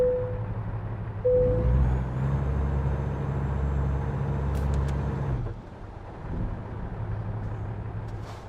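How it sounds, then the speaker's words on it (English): A heavy truck in American Truck Simulator labouring up a hill, a loud, droning engine rumble that swells and holds, then drops off abruptly, with a brief beep and a faint whine over it. "This truck is literally freaking out right now."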